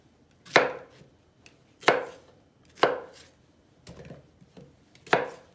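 A knife chops onions on a cutting board in a home kitchen, five distinct sharp thuds spaced about a second apart, close and clear with quiet gaps between strokes.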